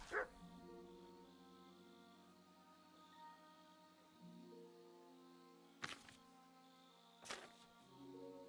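A dog barks and yips inside the medieval game Kingdom Come: Deliverance 2, a few short, fairly faint bursts spaced out over a steady low musical backdrop, with no talking.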